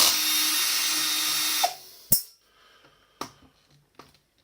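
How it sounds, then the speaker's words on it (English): A handheld power drill whirs steadily for almost two seconds while unscrewing bezel screws on an ADJ Mega Tripar Profile DJ light. It then cuts off, followed by a few sharp metallic clicks and taps close by. "I use a power tool for this bit."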